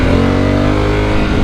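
A Honda Africa Twin 1100 motorcycle engine revs loud and close on the throttle in Dubai traffic, with a steady, rich droning tone that dips slightly near the end.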